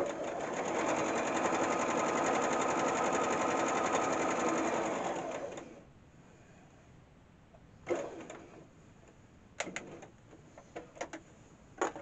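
A sewing machine stitches a five-point star in a steady, loud run for nearly six seconds, then falls quiet apart from a few short clicks and bursts of handling near the end.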